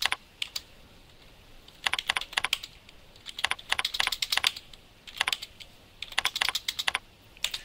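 Keystrokes on a computer keyboard while entering percentages into accounting software, coming in quick bursts of crisp clicks separated by short pauses, close and fairly quiet.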